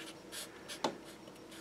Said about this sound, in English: So let me write this.